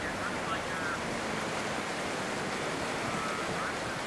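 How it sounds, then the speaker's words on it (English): Heavy rain pours down on the Laguna Seca race track during an iRacing sim race, a steady, dense broadband hiss that stays even and loud throughout with no break. "you can hear the rain here on the camera. It is just absolute coming down here in Laguna Seca"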